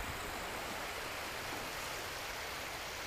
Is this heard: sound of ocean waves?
yes